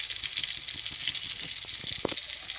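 Garlic with curry leaves sautéing in hot oil as the base for a small-fish curry, giving a steady, close sizzling hiss with light stirring clicks throughout and no talking.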